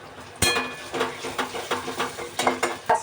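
Ground spices, including chili masala, homemade black masala and a pinch of turmeric, fry in hot oil and are stirred. A loud, steady sizzle runs under repeated scraping stir strokes and a few light metallic clinks, with no talking.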